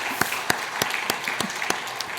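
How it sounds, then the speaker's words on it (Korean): Church congregation at a Sunday service clapping to welcome new members, a short burst of rhythmic unison applause with evenly spaced sharp claps. "박수로 환영하겠습니다."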